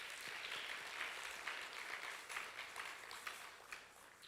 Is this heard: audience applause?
yes